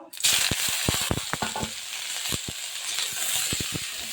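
Tomatoes fry in a wok with a steady close sizzle, punctuated by repeated scraping knocks of a spatula as they are stirred.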